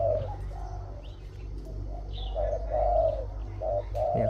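A Thai decoy dove kept as a calling bird gives a series of rhythmic coos, steady and fairly close, over a constant low outdoor hum with a few faint chirps.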